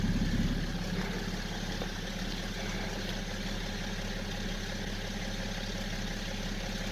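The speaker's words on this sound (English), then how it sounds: "then we check it with the engine running" A 2004 BMW 535d diesel engine idles steadily, a constant low rumble with an even mechanical hum throughout and no other sounds.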